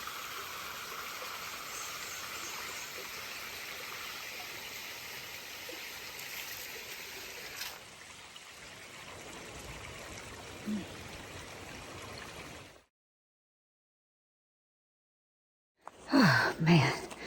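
A small waterfall beside a hiking trail on the Pinhoti Trail, heard as a steady broadband rush of falling water for about thirteen seconds. It then cuts to silence, followed by a short burst of louder handling noise.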